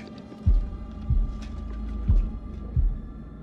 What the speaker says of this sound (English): we got the heartbeat thing